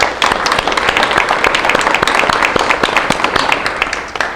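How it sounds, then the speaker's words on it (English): Audience applause at the opening of the Red Wing Collectors Society 2022 event, a dense, steady burst of many hands clapping, fairly close and loud, fading slightly at the end. "I would like to give a big round of applause to the Red Wing Collectors Society"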